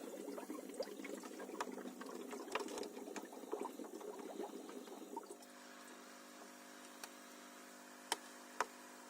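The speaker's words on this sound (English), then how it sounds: "Righto, so I turn on the pump. Now this is with the full 4 litres per minute going" Aquarium air pump driving an 8cm air stone disk at 4 litres per minute, close bubbling and rapid ticking vibration for several seconds, then cutting to a quieter steady hum with a couple of isolated clicks.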